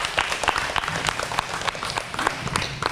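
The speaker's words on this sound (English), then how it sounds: "would you please help me in giving a warm round of applause to Trooper Brian Larson" Applause for an honored North Dakota Highway Patrol trooper: a crowd clapping steadily at moderate loudness, with scattered individual claps standing out sharply for about three seconds.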